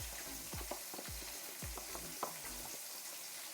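Katla fish frying in oil makes a quiet, low hiss broken by soft, irregular knocks and stirring bumps, with no voices over it.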